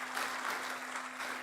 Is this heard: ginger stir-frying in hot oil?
no